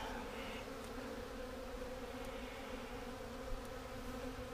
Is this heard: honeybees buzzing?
yes